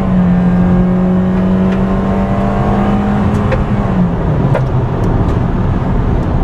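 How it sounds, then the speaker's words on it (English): A 2015 Toyota Corolla with a CVT automatic drones loudly while accelerating from inside the cabin, a steady sustained engine hum that holds one pitch before sliding slightly lower, with no talk over it. "a lot of droning from that CVT automatic"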